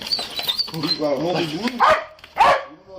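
A police K-9 dog barks sharply at a house during a warrant arrest, loud, close barks mixed with shouting voices.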